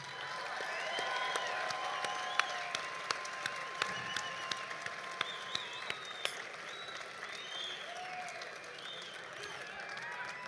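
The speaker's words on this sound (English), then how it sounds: "Join me in one more huge round of applause" Sustained audience applause at a live RAGBRAI route announcement event, a dense crowd wash of clapping holding steady for about ten seconds with a few sharper individual claps standing out near the start.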